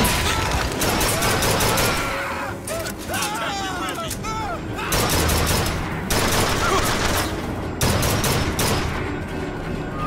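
Sustained video game gunfire crackles through the whole stretch, with dense bursts of automatic shots broken by brief lulls, loud and close, while a player speaks over it.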